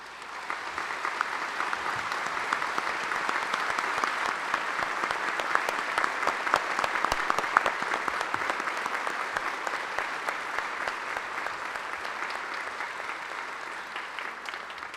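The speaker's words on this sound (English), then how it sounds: "I'd love for us to all give them an applause." Sustained, dense applause from a large audience at a Kennedy Space Center memorial ceremony honoring fallen NASA astronauts, welcoming their standing family members; steady and full for the whole stretch without a clear peak.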